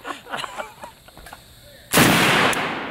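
A 7.62x54R Draco PSL-style rifle fires one loud, sharp shot near the microphone, a sudden blast partway through that rings and decays. Faint talk comes before it.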